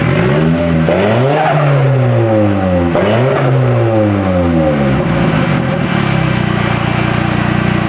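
A Nissan S15 engine on a dyno revs repeatedly, rising sharply and dropping back several times in quick bursts, loud and close, then settles into a steady low drone.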